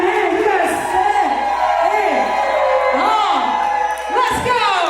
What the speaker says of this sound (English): Y'all about to start clapping your hands. Clap your hands.